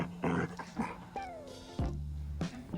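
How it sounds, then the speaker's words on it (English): A dog growls and whimpers indoors in the morning, a few short grumbling bursts with whiny rising tones between them, close by. "Don't worry, Sydney always growls when he wants something."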